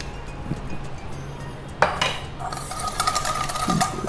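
A spoon stirs a chicken marinade of mustard oil, turmeric and lemon juice in a bowl, with soft scraping, then sharper clinks and clattering of utensil against the dish, close and fairly quiet, with no voices.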